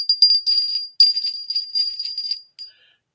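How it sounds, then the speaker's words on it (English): A 24% lead crystal bell rings with its chain sealed in a glass cylinder, giving bright high shimmering tones in a quick series of jingling strikes that ring on briefly and fade after a final tap. "The bell, the chain to the bell is covered in a glass cylinder, so the chain will never break the bell. And it has a beautiful sound."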